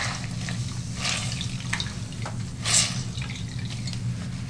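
Water dripping and trickling from a soaked neon green cooling towel as it is wrung out, with scattered splashes over a steady low background hum.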